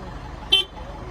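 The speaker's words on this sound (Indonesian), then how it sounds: "Klakson" A single short vehicle horn toot rings out from an official convoy in Keerom, Papua, over low road and crowd noise.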